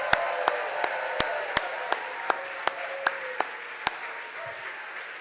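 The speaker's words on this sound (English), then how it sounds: "let's hear one round of applause for Dr." A small handful of people clap in a slow, sparse rhythm at a gala dinner honoring a guest, about a dozen distinct claps spaced evenly, fairly close and isolated against a quiet room.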